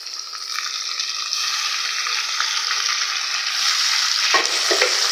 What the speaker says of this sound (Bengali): লবণ হলুদ দিয়ে মেখে রাখা চিংড়ি মাছগুলো আমি এবার তেলের উপর দিয়ে দেবো